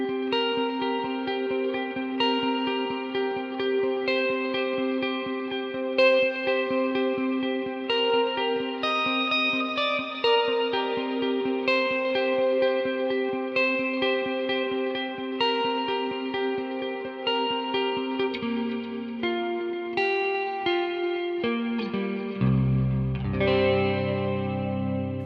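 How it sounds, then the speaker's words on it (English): Sustained electric guitar notes and chords through a Quad Cortex, neck pickup split, ring out continuously, thick with echoing delay repeats and a wide, spacious Mind Hall reverb tail, ending on lower chords. "I've now switched over to the Mind Hall reverb instead"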